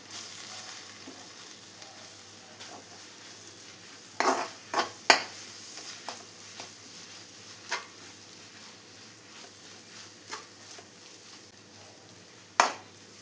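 Soya chunks being stirred together with chili powder and chicken masala powder in a bowl, with a steady soft scraping texture and several sharp utensil clinks against the bowl, close and quiet with no talking.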